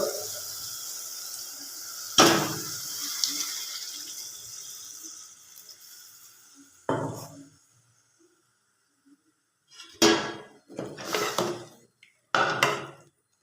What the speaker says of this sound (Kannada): ಇವಾಗ ಎಷ್ಟು ಬೇಕೋ ಅಷ್ಟು ನೀರು ಹಾಕೋಬೇಕು